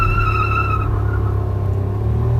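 Maruti Wagon R hatchbacks, 1000cc against 1200cc, accelerating hard off the line in a drag race: loud engine roar with rising revs and a brief squeal of tires, no talk.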